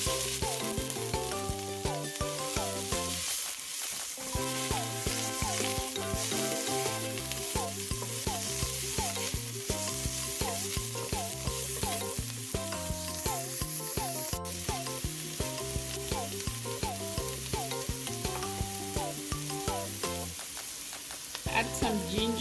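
Onions fry in olive oil for pilau rice, giving a continuous sizzle with occasional stirring that sits under steady background music throughout.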